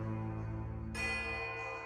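Many bells ringing at once in Pillars of Eternity: Deadfire, a sustained layered metallic chime that brightens and thickens partway through.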